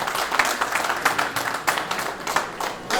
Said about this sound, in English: Please let's give him a round of applause